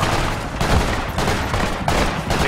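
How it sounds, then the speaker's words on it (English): Enemy gunfire in the video game Project Reality, a sustained crackle of shots with louder bursts around the one- and two-second marks, fairly dense and continuous rather than distant single pops. "I can hear him firing."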